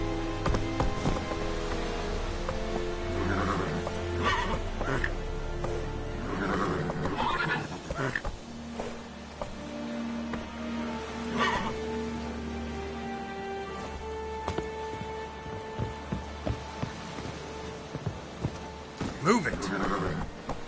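Roach the horse neighs and whinnies in a PS4 video game, with hoofbeats, rain and layered game sound beneath, and a player speaking over it.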